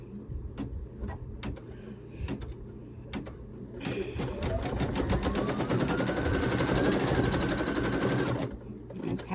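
An embroidery machine runs a stitch-out, giving a fast rapid needle clatter, sparse ticks at first and then a dense continuous run of stitching before stopping.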